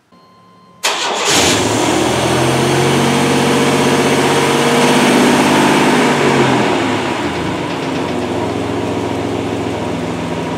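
A Chevy K1500 pickup engine with its drive belt removed cranks and catches after near silence, then settles into a loud, steady close-up idle that eases slightly lower toward the end.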